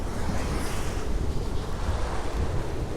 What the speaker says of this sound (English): The wind has dropped back down.